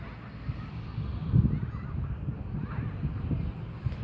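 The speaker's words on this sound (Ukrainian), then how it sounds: "Тут злітається велика кількість качок, лебеді." Ducks and swans gathering on a lake beside a hotel with a water park, heard as a few honking calls over low wind-blown outdoor rumble, moderately close.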